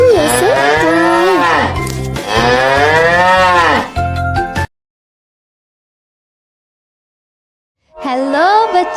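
Cattle mooing in long, loud, drawn-out calls, two back-to-back moos followed by a pause of silence and then the start of another, clear and close with no talk over them.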